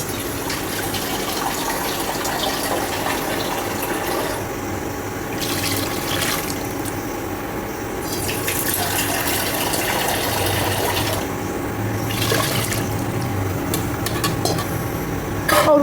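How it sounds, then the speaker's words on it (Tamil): About a litre of water pours steadily into a cooking pot already holding salt and tomatoes, a continuous close gushing splash that swells and thins slightly as the stream changes, with no talking. "நம்ம வேண்டிய அளவுக்கு தண்ணி சேர்த்துக்கணும்"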